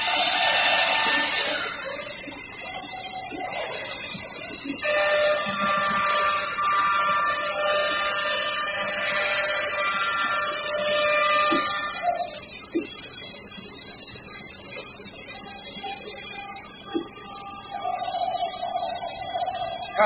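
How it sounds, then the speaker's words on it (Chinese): A fully automatic hole-punching machine on a door lamination line runs with a steady mechanical hum and hiss, with faint tonal whines and occasional soft clicks throughout, with no voices. "这是全自动打孔的，"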